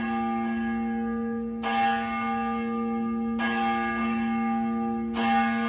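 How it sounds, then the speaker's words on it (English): Church bells toll at a memorial service for firefighters, three resonant strikes spaced roughly two seconds apart, each ringing on and overlapping the previous decay, alone and without voices. "Bells tolled."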